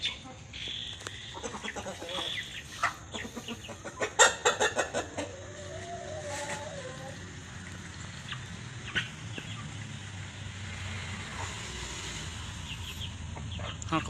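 Chickens being fed cluck and chatter close by, with a burst of louder calls and a rooster crowing midway, and a person talking faintly at times.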